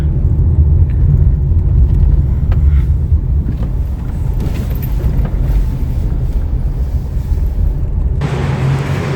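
A turbocharged car drives along a road between Delhi and Kurukshetra, its engine and tyres giving a loud, steady, close rumble from inside the cabin, with wind buffeting and no talking.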